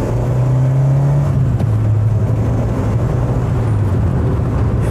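A Peugeot 305 GTX estate's engine gives a loud, gruff drone under load, holding a steady low hum that drops slightly in pitch partway through as the car drives on.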